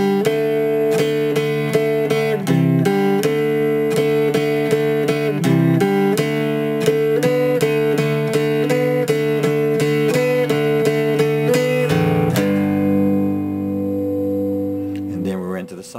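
Electric guitar plays the opening of a song: a run of loud, sustained chords with a choppy rhythmic lead-in, then a held chord ringing out and fading near the end, with no voice over it.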